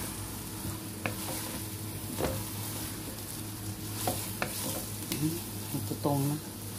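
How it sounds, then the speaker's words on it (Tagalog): Biko, a sticky rice cake, cooking in a pan: a quiet background sizzle broken by a few scattered stirring scrapes and soft clunks, close and fairly faint, with no talking. "Haluin natin."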